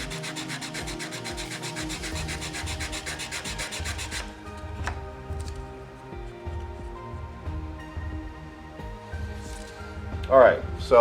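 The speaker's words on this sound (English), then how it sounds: "All right, so I can sand them, make sure they're flat." Small wooden model truss pieces rubbed flat on sandpaper, a rapid close scratchy rasping for a few seconds, then quieter intermittent scraping and handling.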